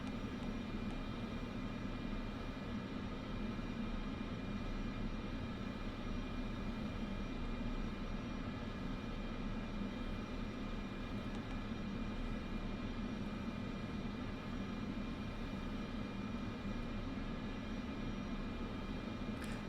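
Steady, low droning aircraft engine idling in Microsoft Flight Simulator 2024, a continuous even hum with broadband hiss held constant throughout, no voices heard.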